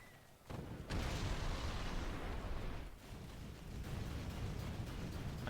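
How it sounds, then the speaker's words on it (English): A Pandora neutron bomb in the Rise of the Reds strategy game goes off in a huge rolling blast. The roar sets in after a short quiet moment and carries on as a dense, sustained rumble. "Oh, it's a Pandora neutron bomb."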